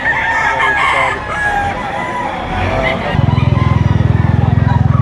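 A rooster crows in a busy chicken market in Lipa, Batangas, its calls rising over steady chatter, then a low throbbing engine-like rumble pulses in close for the last couple of seconds.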